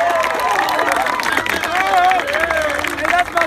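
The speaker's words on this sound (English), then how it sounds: "round of applause for Coach Carr" Crowd at a high-school bonfire pep rally in New Castle applauds and cheers for Coach Carr, a steady wash of clapping and shouts under an amplified voice on a public address system.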